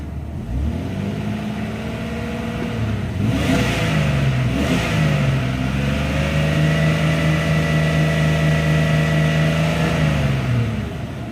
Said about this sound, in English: But it is rattling a little bit. It's just the lifters though.